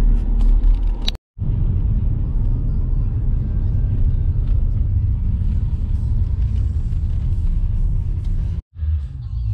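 Heavy road traffic gives a loud, continuous low rumble of passing cars and engines, close by, with two brief dropouts.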